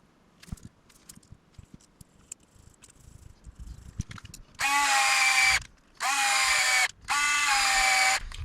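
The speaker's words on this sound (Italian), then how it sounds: "Questo è un giravite elettrico" An electric screwdriver drives screws while an HB Racing D819RS differential is assembled, in three loud whirring bursts of about a second each, preceded by small clicks and handling of parts close up.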